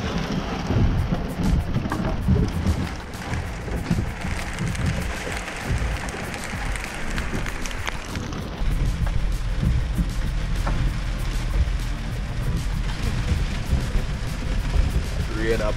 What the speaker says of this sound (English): So, that's the rain.